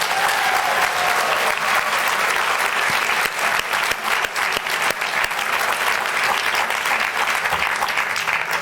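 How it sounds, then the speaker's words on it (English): Sustained, dense clapping fills the hall at a community college graduation ceremony, a loud, even wash of applause from a large audience lasting throughout, with a few faint voices underneath. "Give yourselves a big round of applause."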